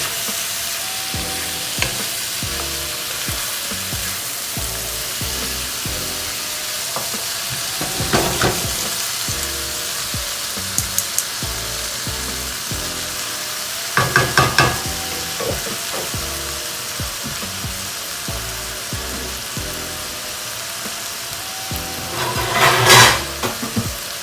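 Shrimp fry in a pan for Southern-style shrimp and grits, producing a loud, steady sizzle that runs throughout, with occasional metallic clinks and scrapes of a utensil against the pan and no talking.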